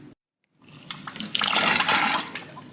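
Water rushes through a five-stage reverse osmosis filter system with a steady hiss that swells after a brief silence, growing louder and fuller as the flow builds.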